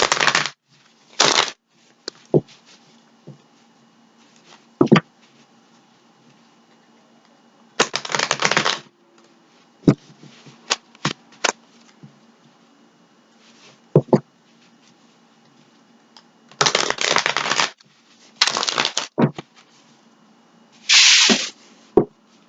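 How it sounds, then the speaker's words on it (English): A tarot deck is shuffled in several separate bursts, each a quick close riffling flutter of cards, with quiet gaps and small taps and clicks between them. "Okay, so I'm going to give it a couple shuffles."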